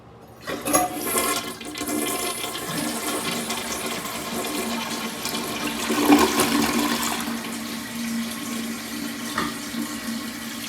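A 2006 American Standard Cadet toilet flushes with a sharp gush of water, then refills with a steady hiss and trickle. A few clunks and splashes of the tank cut through, heard close up with no talking.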